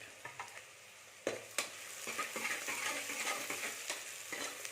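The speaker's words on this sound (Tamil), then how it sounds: "ஒரு நாலு கொத்து கருவேப்பிலை கொஞ்சம் அதிகமாகவே போடுங்க ரெண்டாக பிச்சுட்டு போட்டு" Curry leaves dropped into hot oil for goat leg soup, a quiet sizzle that swells into brisk crackling after a couple of sharp spoon knocks against the pan.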